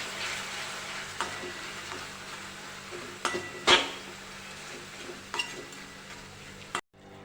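Quiet sizzling in a pan as sauces, including soy sauce, are stirred for Manchurian, with a few sharp clinks and scrapes of a spoon, close by and without speech.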